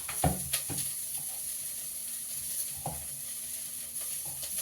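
Coriander, mint and curry leaves fry in a pan with a low, steady sizzle and occasional soft knocks and scrapes of a stirring spoon, quiet and close, no voices.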